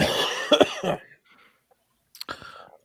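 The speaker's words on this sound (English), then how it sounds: "You coughed." A person coughs after choking on key lime LaCroix, a cluster of close, sharp coughs followed by a brief pause and one more rough cough.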